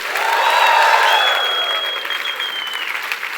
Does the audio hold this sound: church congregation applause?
yes